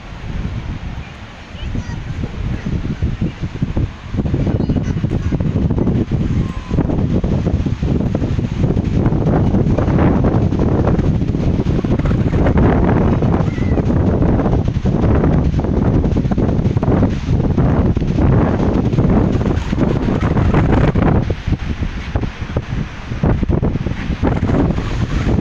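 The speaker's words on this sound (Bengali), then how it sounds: "এখানে এত হাওয়া যে আমি ছবিও তুলতে পারছি না একটা।" Strong gusts on a sea beach at Digha buffet the microphone with loud, rumbling low roars that rise and fall continuously, masking the surf, while a voice talks intermittently.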